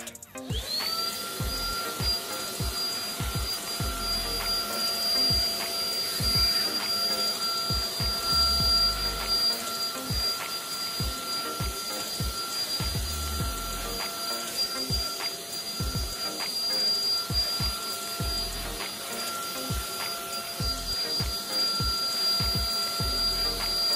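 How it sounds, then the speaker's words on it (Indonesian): A Kurumi KV-0 cordless vacuum cleaner runs steadily while cleaning curtains, a constant close, loud whine with a high tonal edge and brief shifts in suction as the nozzle moves along the fabric, with no talking. "Jadi sisa apa kayak gini aja kita vakum."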